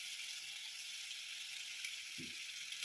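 Spice paste with ground cumin frying in a pan for prawn bhuna, a steady soft hiss of sizzling oil close by with one brief low thump.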